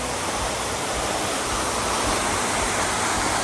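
Standing at the very edge of a waterfall, a dense, unbroken rushing roar of falling water fills everything, steady and close, with no voices.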